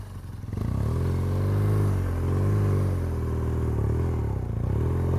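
An off-road motorcycle engine revs hard under heavy throttle at an off-road riding clinic in Colorado, a steady loud mid-range drone that surges and dips for about five seconds, close and continuous with no talk.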